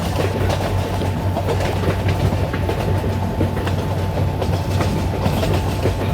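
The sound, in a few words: train slowing into Anand station, Indian Train Simulator video game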